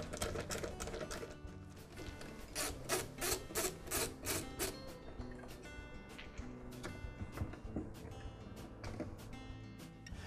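A screwdriver backs screws out of the motor capacitor housing of a KitchenAid food processor, giving a continuous close scraping and rasping with rapid ticking bursts over a dense, steady background.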